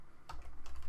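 Rapid keystrokes on a computer keyboard entering an IP address into a browser tab, with a quick burst of close, steady clicks over a low background hum.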